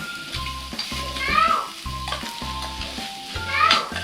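Pork sizzles on a Thai mookata grill pan at a family meal, a continuous frying hiss with stirring and utensil clinks, heard under people talking nearby.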